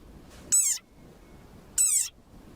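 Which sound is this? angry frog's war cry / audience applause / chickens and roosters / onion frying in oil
angry frog's war cry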